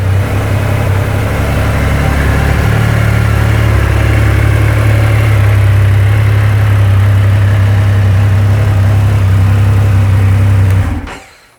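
A 2025 Triumph Rocket 3 GT Storm, a very large motorcycle, idles with a deep, steady, loud rumble that swells slightly with light revving, running continuously close by before cutting off abruptly at the end.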